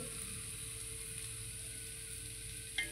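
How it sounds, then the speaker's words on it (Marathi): Paneer bhurji cooking gently in a pan over a low flame, a soft, even sizzle that stays faint and steady, with one brief clink near the end. "थोडंसं मी हे शिजवून घेते आता मंद आचेवरती"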